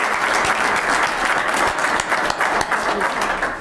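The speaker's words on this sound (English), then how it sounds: "Couldn't we applaud you now?" A room at a Weber County Commission meeting breaks into sustained applause, dense, even clapping from many people that fills the whole stretch at close range before easing slightly at the end.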